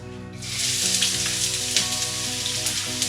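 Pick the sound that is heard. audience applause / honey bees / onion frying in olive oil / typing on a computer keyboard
onion frying in olive oil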